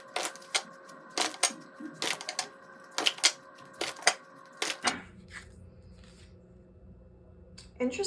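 Tarot cards being shuffled and laid out, a series of crisp, sharp flicks and snaps for about five seconds, then quieter background hum with a faint rustle near the end.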